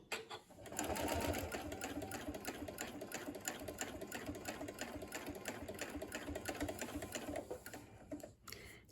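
Sewing machine stitching a quilt block seam at a slow pace, a rapid even run of needle clicks close up and alone, starting and stopping with a brief pause near the end.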